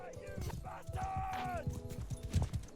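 Horses clip-clopping and galloping in a video game battle, a rapid hoofbeat rhythm with battle noise and people talking over it.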